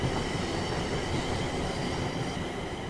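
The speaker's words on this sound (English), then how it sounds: "This train is a Class 350/1 electric multiple unit, manufactured between 2004 and 2014" A Class 350/1 Desiro electric multiple unit, built 2004 to 2014, runs on the West Coast Main Line in Train Sim World 5: a continuous loud rumble of wheels on track with a steady hum, heard from close by without any voices.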